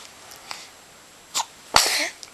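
A small sneeze, near and fairly loud, with a short sharp intake and burst, preceded by a brief huffing breath and faint rustles in an otherwise quiet room.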